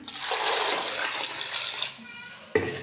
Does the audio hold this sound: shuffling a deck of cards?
no